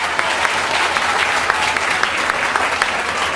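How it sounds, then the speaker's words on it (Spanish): Sustained audience applause at an ecumenical debate between pastors and a Catholic priest, dense, even clapping from a crowd filling the room without pause. "Aplausos a los árbitros."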